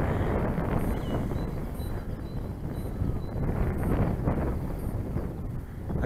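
Strong, gusting wind roars steadily across an outdoor microphone on a hillside where Pug v1 and v2 DLG gliders are flown, with continuous broadband buffeting and no voices.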